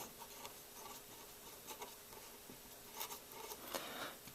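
A pen or pencil writes out the steps of an algebra solution, making faint, intermittent scratching strokes close by in a quiet room.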